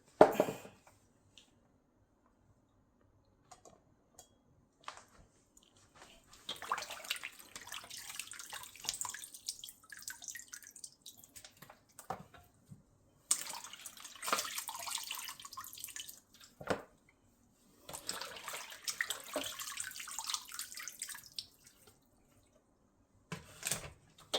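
Tap water runs over goat meat being washed in a sink, coming in several long gushing bursts separated by quiet pauses, with scattered drips and handling noises in between.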